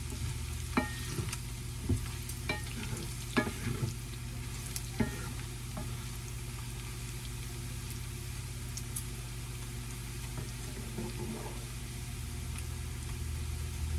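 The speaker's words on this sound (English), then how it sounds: "It says stir occasionally, so that's what I'm doing. Stirring occasionally." A spoon stirs food in a pot on the stove during a pantry meal cook, with a few scattered scrapes and knocks over a steady low hum and faint background noise.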